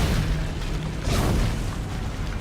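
An explosive barrel blowing up in Dead Space 2 gives a dense, loud blast with a rumbling tail that fills the whole moment, and a second swell of debris noise comes about halfway through.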